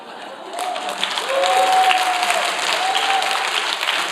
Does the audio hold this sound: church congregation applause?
yes